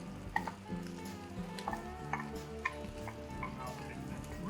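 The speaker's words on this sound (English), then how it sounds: "1 onion's gonna go in the pot" A diced onion tumbles into a Cajun gumbo pot, giving brief soft clatters and faint sizzling over a steady kitchen background.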